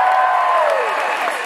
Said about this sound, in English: This is an unbelievable crowd.